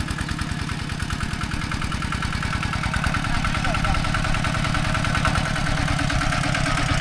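A walking tractor's small engine idles in a quiet Thai mountain village, a steady close chugging throb that runs without a break from start to end.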